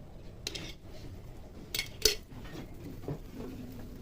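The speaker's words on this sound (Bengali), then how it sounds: "ঘি দিয়ে সুন্দর করে মিশিয়ে নেবো।" A spoon scrapes and taps faintly against a pan as ghee is stirred into a motichoor laddu mixture over a low flame, with soft irregular clinks and one sharper knock, otherwise quiet.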